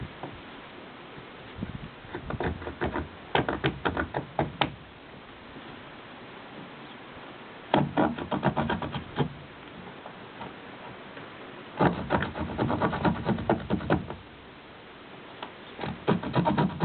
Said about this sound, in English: I'm going to get my knife and mark this notch that we're going to cut